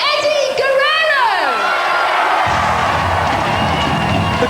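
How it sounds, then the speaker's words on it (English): A dense wrestling crowd roars and whoops on its feet for Eddie Guerrero at a UK wrestling show, loud and continuous, with high whistles and shouts sliding through the din. "The crowd on their feet for Eddie Guerrero."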